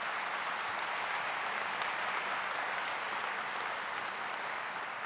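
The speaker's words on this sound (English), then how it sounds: "Could you please give them a round of applause?" Steady, dense applause from a large audience at an African American heritage celebration, honoring the masters of ceremony, sustained evenly throughout and somewhat distant.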